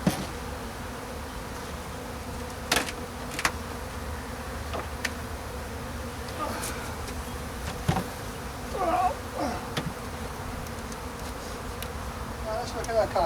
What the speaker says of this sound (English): you might find the bees are going to get quite aggressive because there's a few here